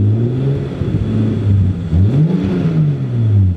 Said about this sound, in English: All right, let's give her a rev.